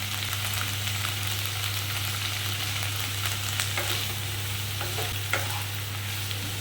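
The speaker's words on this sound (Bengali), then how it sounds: "আমি একটুখানি এই সমস্ত আদা, রসুন, লঙ্কা সব একটুখানি ভেজে নেব।" Ginger, garlic and chili frying in a pan, a steady close sizzle with occasional stirring scrapes and a constant low hum underneath, no talking.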